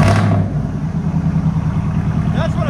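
Deep, steady rumble from a RAM pickup's 6.4L V8 with a loud exhaust, a strong low note holding through the clip with a brief higher whine near the end; engine sound alone, no talking.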